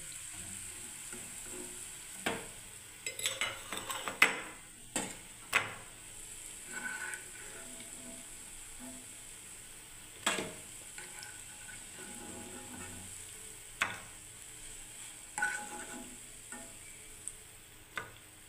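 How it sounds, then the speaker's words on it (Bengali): Chhana fritters (paneer bora) sizzle in hot oil in a pan while being lifted out one by one, a faint steady fry under sharp intermittent scrapes and clinks of the utensil. "দেখুন ছানার বড়াগুলোকে সব তুলে নিচ্ছি বন্ধুরা।"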